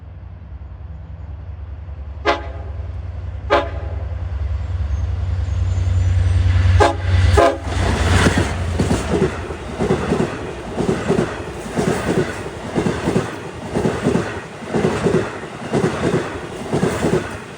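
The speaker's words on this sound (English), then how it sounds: "He'll have the 12-car set from the Cannonball on Friday night. Leader will be DM30AC 512 as he approaches mile 42 and the Grant Avenue crossing." A 12-car train led by DM30AC locomotive 512 nears the Grant Avenue crossing near mile 42 on the Montauk Branch, with two short horn blasts, then a longer horn sequence as it arrives, followed by loud rhythmic wheel clatter passing close.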